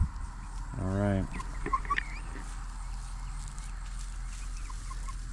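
Hens on a small farm, a short clucking call near the start followed by faint scattered clucks over a quiet outdoor background.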